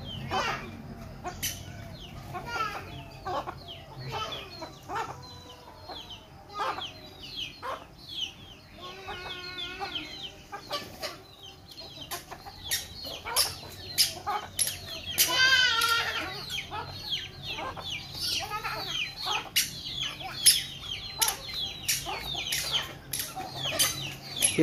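Chickens clucking and squawking with bursts of flapping wings as a young child chases them around a yard, near and busy throughout, with occasional light voices in the background.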